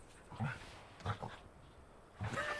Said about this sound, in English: Look, we got a puppy on the game, Jughead.